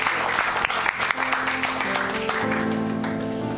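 A church congregation applauds the Lord during a Sunday prophetic service and mass prayer, a dense, sustained wash of many hands clapping, with a few sharper claps and a voice or musical tone faintly underneath.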